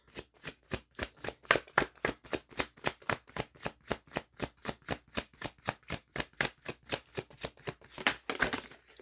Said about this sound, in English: let's get a couple cards out